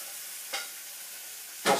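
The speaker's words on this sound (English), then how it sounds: "Put the pasta in the bacon one, because the bacon pan has got lots of nice juices and stuff in it." Cooked pasta tipped into a hot pan of bacon and its fat hisses in two short sizzling bursts, a faint one and then a louder, fuller one, with quiet between them.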